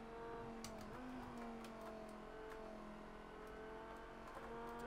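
A Porsche road car engine in Project CARS 2 revs and drones steadily, its rising and falling tones holding close and loud throughout with no talk over it.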